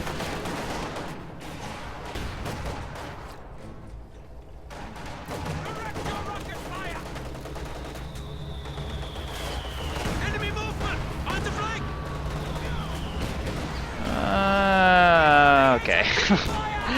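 A Puma armored car fires its gun in a war video game: scattered gunfire and combat noise run steadily under a busy battlefield mix, with a louder rising burst near the end.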